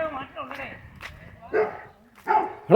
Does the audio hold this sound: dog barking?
yes